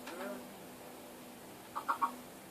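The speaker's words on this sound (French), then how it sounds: "je vous montre la ferme à poulet" Chickens on a chicken farm in a video game, a few short clucks close together near the end over a quiet background, with a brief voice at the start.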